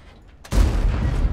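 A tank cannon shot in the video game World of Tanks: one sudden loud boom after near silence, followed by a heavy rumbling tail that fills the rest of the moment, with no talking.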